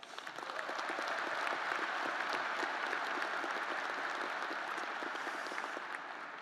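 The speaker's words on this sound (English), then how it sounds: "that hard work and dedication deserves another round of applause" Commencement audience applause at the Michigan Ross School of Business graduation, a sustained, even wash of many hands clapping in a large hall, rising in and holding steady, heard from a distance and fairly faint.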